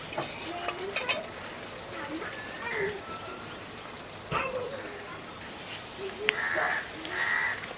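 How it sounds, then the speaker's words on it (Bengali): Paneer masala stirred in a pan just after the lid comes off, a steady soft sizzle with scraping spoon strokes and a few sharp clinks, while crows caw faintly in the background. "ঢাকনাটা তুলে নিচ্ছি, আবার একটু নেড়ে নিচ্ছি"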